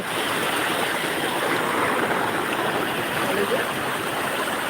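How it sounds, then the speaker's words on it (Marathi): Steady broadband rush of a waterfall at Bhandara, heavy flow of water pouring continuously, fairly close and filling the scene, with no voices over it. "तुम्हाला आम्ही आता धबधबा दाखवतो"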